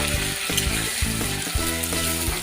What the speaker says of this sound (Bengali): বেটে রেখেছিলাম সেই বাটাটা তার সঙ্গে নুন হলুদ একসঙ্গে দিয়ে কষিয়ে নেব